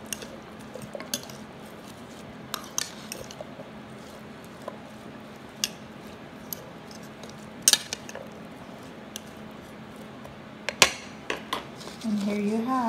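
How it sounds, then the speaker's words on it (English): A salad with peppers being mixed in a bowl: soft, faint stirring over a low steady hum, broken by sparse sharp clinks of utensils against the bowl. "And then we're going to mix it nicely until everything is well combined."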